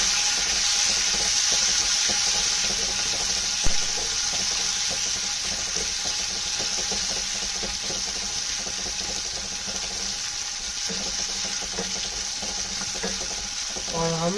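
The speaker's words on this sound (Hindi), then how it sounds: "हम स्लो स्लो पे इसको फ्राई करेंगे।" Chopped tomatoes and red chilli fry in a pan, giving a steady, loud sizzle and crackle with occasional stirring scrapes, close by and continuous, with no voice over it.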